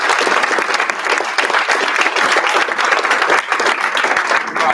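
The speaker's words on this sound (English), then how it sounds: "Can I get a round of applause for our speakers?" A crowd gives panel speakers at a live event a round of applause: loud, dense clapping that stays steady and close for the whole stretch, with no break.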